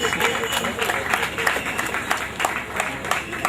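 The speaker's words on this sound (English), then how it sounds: "A round of applause for Mr. Oluwole, please." Audience clapping for Mr. Oluwole at an Ibadan social enterprise event, uneven individual claps from a modest crowd, fairly close, with some voices mixed in.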